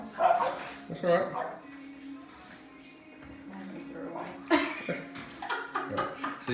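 Several French bulldogs bark and yip in bursts after a doorbell rings, with loud excited barks near the start and again toward the end, mixed with a person talking over them.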